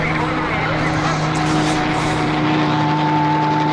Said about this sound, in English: It's time to get to the chopper!